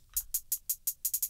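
A clean, crisp hi-hat plays a quick, even rhythm of bright, short ticks, dry and close with no other sound.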